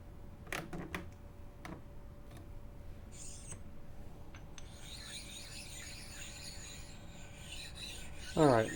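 The bottom of a milling vise for a PM30 mill is rubbed flat, giving a steady, close, gritty rasping that builds and continues for several seconds, with no talking.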